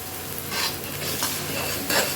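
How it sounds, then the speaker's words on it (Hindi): Whole green chilies with crushed ginger and garlic sizzling in a pan: a continuous close frying hiss with a few soft stirring scrapes, brief and without talk. "अभी हमने साबुत हरी मिर्ची डाल दिया, अदरक लहसुन कुटा हुआ।"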